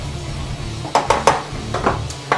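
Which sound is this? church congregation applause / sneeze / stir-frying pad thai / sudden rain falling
stir-frying pad thai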